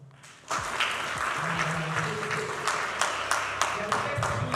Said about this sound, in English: Please clap for us now.